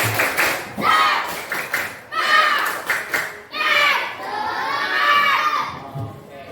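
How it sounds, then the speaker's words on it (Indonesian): Schoolchildren in a classroom perform the tepuk semangat spirit clap chant, bursts of rhythmic group clapping alternating with loud shouted chanting from the kids, close and lively, ending in a brief pause. "Sekali lagi, ayo kita tepuk semangat."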